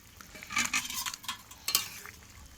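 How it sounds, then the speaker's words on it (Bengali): Bata fish tipped into a bubbling curry broth with boiled papaya gives a run of splashy, clattering bursts and scrapes, with a sharper splash near the end, close and moderately loud. "ঝোলগুলো ফুটছে টকবক করে, এর উপর আমি বাটা মাছগুলো সব ঢেলে দেবো"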